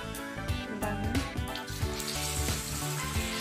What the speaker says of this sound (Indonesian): Ini udah mendidih, kita masukkan satu-satu kentangnya.